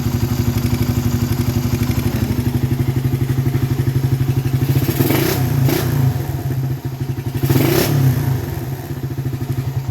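A motorcycle engine with a noisy flat-slide carburetor idles with a steady, throbbing rumble close by, then briefly revs twice with a rattling, clattery edge.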